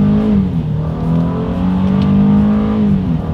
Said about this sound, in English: Let's go ahead and test out the paddle shifters and let's see how quickly they are going to react for us here.